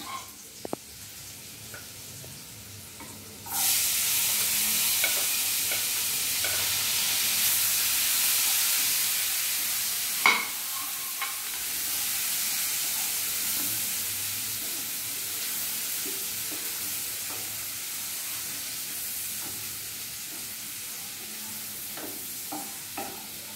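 Onion and garlic fry in butter for a red sauce pasta. A faint background sizzle swells suddenly into a loud, steady hiss a few seconds in, with a brief sharp clatter partway through and continuous frying afterward.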